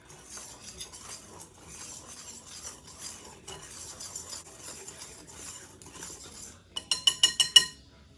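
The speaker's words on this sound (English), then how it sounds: "Going to give these dry ingredients a quick whisk until they're well blended." A whisk scrapes and taps around a bowl of flour, cinnamon and nutmeg, a soft continuous swishing with light clinks, ending in a quick run of sharper metal-on-bowl taps.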